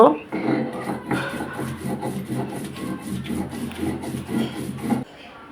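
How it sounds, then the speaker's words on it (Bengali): Chili, garlic and onion are ground on a grinding stone in quick, rhythmic scraping strokes, a close, gritty rubbing repeated a dozen or so times before stopping abruptly. "আমি এই মরিচ, রসুন এবং পেঁয়াজটা আবার একটু বেটে নিব।"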